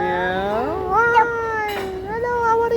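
A single drawn-out, rising and falling meow, sounding like a person imitating a cat, is heard up close and fairly loud with a few softer vocal inflections.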